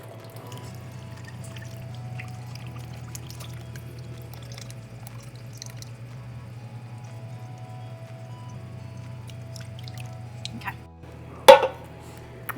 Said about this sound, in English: And a whole can of tomato juice.